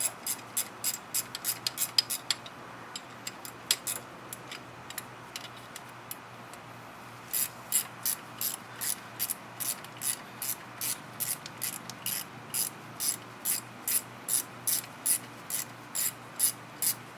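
Steady ratchet clicking rings out as brake bolts are undone on the front brakes of a 1998 Buick Park Avenue: sharp, close ticks in long even runs of strokes, briefly pausing midway before resuming, with no talking.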